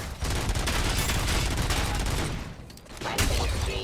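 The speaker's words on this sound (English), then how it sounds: "He's got a shotgun." Shotgun fire and rapid gunfire in a dense, loud burst fill nearly all of the stretch in the RoboCop Rogue City video game. The din dips briefly, then resumes.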